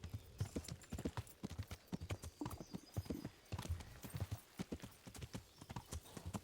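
Hooves clip-clop in a brisk, regular rhythm as a horse trots in Kingdom Come: Deliverance, close and distinct throughout with faint background ambience.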